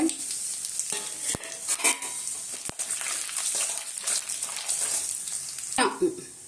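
Mustard seeds splutter in hot oil in a pan as ingredients for a banana flower and drumstick leaf stir-fry go in, giving a steady close sizzle with sharp scattered pops and occasional utensil clicks.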